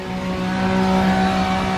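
A small engine drones steadily at close range, a constant motor hum with a slight rise in pitch, like a lawnmower running nearby.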